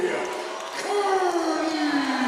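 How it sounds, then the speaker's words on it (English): A crowd at a Cage Titans MMA event roars for a fighter making his debut, a sustained arena cheer swelling under a loudspeaker announcer's voice. "Listen to this crowd."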